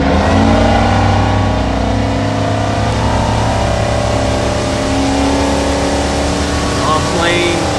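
A Yamaha 425 XTO outboard on a 2021 Regulator 26xo boat drones loudly and steadily, rising in pitch as it accelerates, with wind and water noise throughout.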